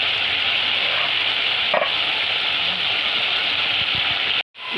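Green peas sizzling steadily as they fry in a pan, ahead of drumsticks being added, with one brief scrape partway through and a sudden cut near the end.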